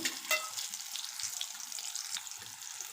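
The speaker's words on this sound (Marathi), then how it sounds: "मिरच्या छान तेलात भाजल्या गेलेल्या आहेत" Green chillies frying in oil with a pinch of salt for a potato dish: a steady, close hissing sizzle with faint crackles throughout, and no talk.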